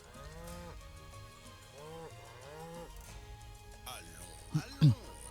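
Cows moo in Final Fantasy VII Rebirth, a string of drawn-out, mid-pitched lows over soft game music, with a sharper, louder moo near the end.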